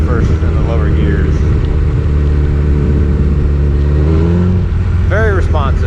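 A 2001 Suzuki Hayabusa sport motorcycle engine revs and pulls through low gears, loud and close, with a rising whine near the end over steady road noise.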